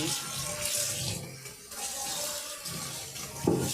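Running tap water washes yellow pumpkin pieces, a close, continuous splashing stream that shifts as the pieces are moved under the flow, with brief clunks near the end.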